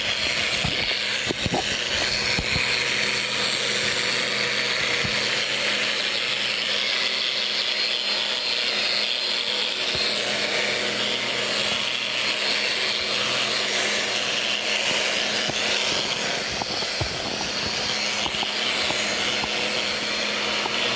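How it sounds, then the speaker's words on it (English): A grinder runs nonstop at close range, a loud steady whirring roar that barely varies for the whole stretch, with no voices. "he is going to town with that grinder"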